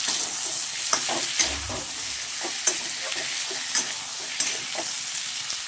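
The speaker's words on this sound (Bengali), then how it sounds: "আমি একটু কাঁচা পেঁয়াজ দিয়ে দিয়েছি এটাকেও আমি ভালো করেই ভাজা করে নিচ্ছি" Raw onions sizzle in hot oil in a pan with potato and eggplant for a fish curry, a continuous close frying hiss punctuated by regular scraping stirs of a spoon, no talking.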